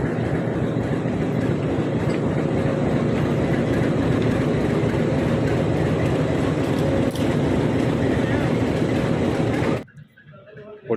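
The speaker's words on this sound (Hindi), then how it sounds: "अपनी हेरिटेज टॉय ट्रेन अपने पहले स्टॉपेज पाताल पानी पर पहुंच गई है।" Heritage toy train rumbling steadily along the track as it arrives at Patal Pani station on the Dr. Ambedkar Nagar to Kalakund line, loud and continuous before cutting off abruptly near the end.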